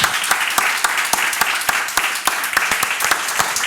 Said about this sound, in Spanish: yo creo que se merecen un fortísimo aplauso